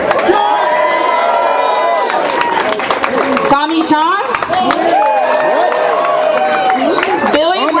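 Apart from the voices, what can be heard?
audience applause and cheering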